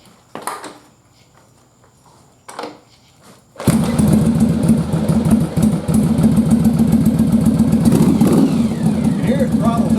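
A Yamaha Virago motorcycle engine turns over after a couple of brief cranking bursts, then catches and settles into a loud, steady, throbbing idle nearby.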